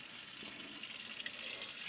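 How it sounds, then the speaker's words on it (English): Cold tap water pours steadily into a pot of boiled eggs, a continuous hissing splash at moderate level with no talking. "So what I'm doing is I'm just putting cold water on here."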